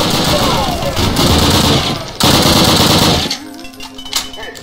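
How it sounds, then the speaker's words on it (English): An MP40 submachine gun rattles in long rapid bursts in the video game Brutal Wolfenstein, loud and close for over three seconds, then cuts off, leaving faint game sounds. "I have an MP40 and I'm not afraid to use it."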